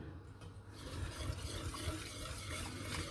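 Soup being stirred in a pot during home cooking, a soft continuous swishing and scraping of liquid with a faint sizzle underneath, steady and close, no voices.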